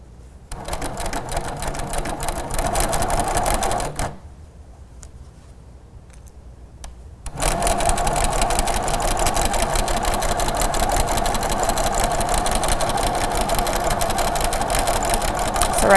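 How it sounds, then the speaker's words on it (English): A sewing machine stitches a quilted table runner, running loudly in fast, steady rapid-fire stitching, stopping for a few seconds at a corner pivot, then resuming at full speed. "I'm going to stitch up so that my needle goes down right in the corner"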